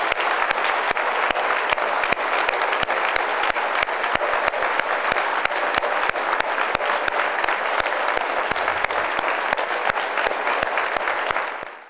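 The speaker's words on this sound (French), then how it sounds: "Donc je vais vous demander de l'applaudir" Audience applause at a town's New Year's greetings ceremony in France: dense, steady clapping from a large crowd, loud and continuous for about twelve seconds before cutting off at the end.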